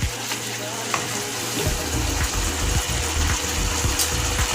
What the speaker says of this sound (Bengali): এইভাবে আমি একটা একটা করে চিংড়ি মাছ এই গ্রেভির মধ্যে দিয়ে দিচ্ছি।